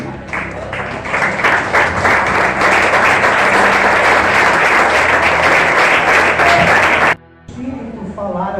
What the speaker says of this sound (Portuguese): Vamos aplaudir o Senhor porque Ele é digno.